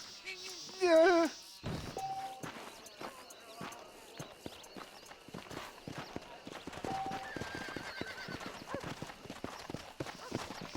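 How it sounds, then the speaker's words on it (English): A wild, tetchy horse in Red Dead Redemption lets out a loud, shrill whinny near the start, followed by steady clip-clop of hooves on hard ground that continues throughout, with faint voices mixed in. "This steed looks right tetchy, I don't mind telling."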